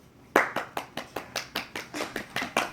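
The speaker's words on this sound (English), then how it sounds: "Ruby, applause." Steady rhythmic clapping follows a short speech about planting: about a dozen crisp, evenly spaced claps, close and clear, starting with a loud first clap and keeping a regular beat.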